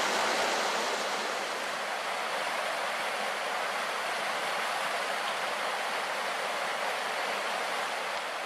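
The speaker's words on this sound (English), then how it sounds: "The creek, I guess, goes through there too." A creek flows with a steady, broad rushing, constant and fairly loud throughout with no breaks and no voices.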